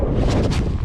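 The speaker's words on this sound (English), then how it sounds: "wind is destroying me right now" Strong wind buffets a microphone at a fishing bridge, giving a loud, low, rumbling roar with gusting surges throughout.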